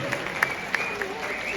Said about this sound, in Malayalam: അതിനെല്ലാവർക്കും വലിയൊരു കൈയടി തന്നെ കൊടുക്കണം നമ്മുടെ ഭാഗത്തു നിന്നും.